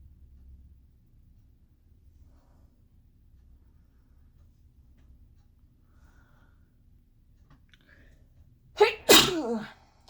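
A single sharp sneeze bursts out near the end after several seconds of near silence with faint low rumble.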